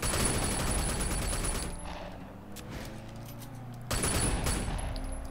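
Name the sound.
gunfire shooting at tires in video game Sleeping Dogs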